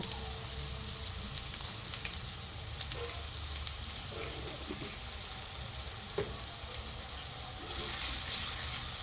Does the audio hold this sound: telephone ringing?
no